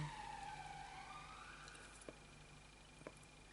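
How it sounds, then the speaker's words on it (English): Distant emergency vehicle sirens wail faintly through city ambience, a slow rising and falling tone with a couple of soft knocks nearby. "sirens."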